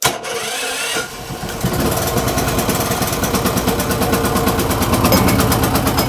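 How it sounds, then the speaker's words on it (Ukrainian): A 3 kW single-phase portable petrol generator cranks briefly and catches, then settles into a loud, steady, close mechanical engine run with a rapid rhythmic chatter. "автоматичному режимі запускаю генератор"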